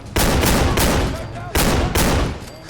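Shotgun blasts in Fallout 4, a modded survival playthrough: four loud, close booming shots in two quick pairs, each with a sharp attack and a short decaying tail.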